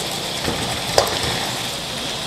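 Beef pieces and tomatoes frying together in a kadai, giving a steady soft sizzle with a couple of faint stirring clinks, and no talking.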